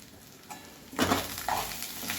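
Cashews, melon seeds and white sesame seeds roast with onion in a pan, giving a soft sizzle broken by a few louder stirring scrapes of a spoon against the pan.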